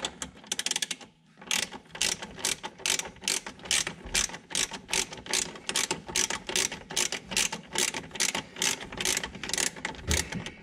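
Ratchet working a bolt to remove the brake caliper on a C5 Corvette: fast, steady rhythmic clicking strokes, close and loud, continuing for several seconds after a brief opening pause, with no talk.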